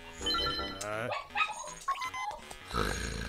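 In the video game The Legend of Zelda: Link's Awakening, a dog barks repeatedly amid chiming, bell-like game sounds and music. The barks are dense, bright and come in quick bursts across the whole stretch.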